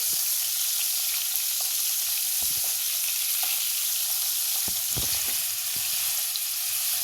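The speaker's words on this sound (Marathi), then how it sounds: "हे पहा अशा पद्धतीने मी एक साईडनी तळून घेतले" Paneer pieces shallow fry in oil, making a constant bright close sizzle with occasional soft pops and light utensil taps.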